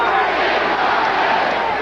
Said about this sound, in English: Crowd starting to roar